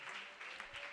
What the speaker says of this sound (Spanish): Vamos a darle un aplauso fuerte a la presencia de Dios.